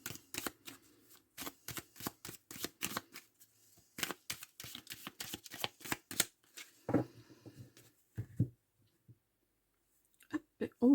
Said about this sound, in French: Donc, on va faire aussi un tirage en 9 cartes.